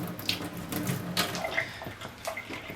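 Steady running water rinsing an anodized vintage model engine part, a continuous splashing flow with small spatters, close and moderately loud, with no talking.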